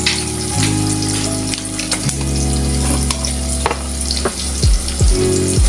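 Garlic and ginger paste sizzles loudly in a hot pan for a chicken pasta with cheese dish, with a steady frying hiss, occasional stirring scrapes and sharp spatters near the end.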